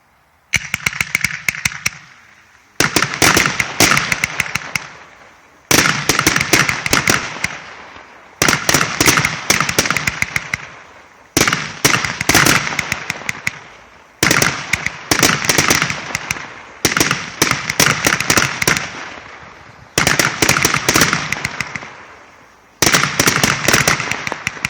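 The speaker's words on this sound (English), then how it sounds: "the next cake is also a Z cake, back and forth, left to right, 90 shot. Gold strobe willow with a big blue pistol with a blue mine" A 90-shot Z-pattern firework cake fanning back and forth with gold strobe willow and blue effects, loud bursts of rapid crackling shots in repeated volleys separated by short pauses, close and powerful.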